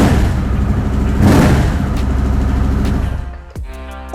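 A Harley-Davidson Sportster S motorcycle fitted with an expensive aftermarket exhaust revving loudly and close, a rough, dense roar that holds for about three seconds and then drops off sharply to idle.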